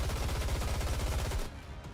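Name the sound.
gunfire in the video game Goddess of Victory: NIKKE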